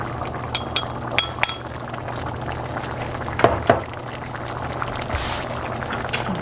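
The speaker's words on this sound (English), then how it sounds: "Turn it down and just let it simmer." Black bean chicken chili bubbles in a pot, a steady close simmering boil with a few sharp utensil clinks and taps on top, and no talk.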